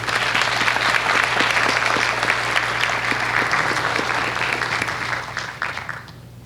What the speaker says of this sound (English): So let's have a round of applause for Gabriel.